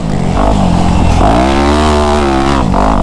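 Dirt bike riding hard through a deep sand track, the engine roaring loud and continuous with rising and falling pitch as it revs and shifts, close and steady throughout.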